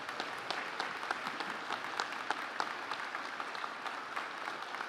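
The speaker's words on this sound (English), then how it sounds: "big round of applause and some cheers for family and friends" Graduation audience applause, a steady patter of clapping from a modest crowd with occasional sharper claps standing out, fairly thin and even for its whole length.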